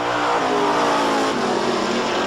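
A drag-racing station wagon roars down the strip at an NHRA national event in Calgary, its engine loud, close and continuous as it accelerates, the pitch climbing steadily across the whole stretch.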